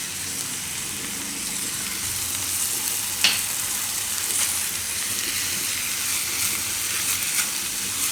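Tomatoes cook in a pan over a gas flame turned to full, giving a steady, close, hissing sizzle that runs throughout, broken by a couple of faint clicks, with no talking.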